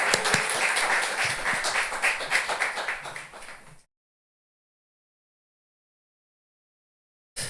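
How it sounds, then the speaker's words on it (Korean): A church congregation at Sunday worship applauds to welcome a visiting professor, steady full-room clapping for about four seconds before cutting off abruptly. "우리 김경식 교수님 모실 때 박수로 우리 환영하도록 하겠습니다."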